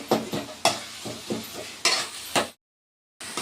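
A spoon mashes ridge gourd curry gravy in a pan with close, squelching scrapes and soft sizzling, several sharp strokes in a row, then a short silence before the mashing resumes.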